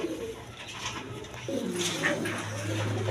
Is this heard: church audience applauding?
no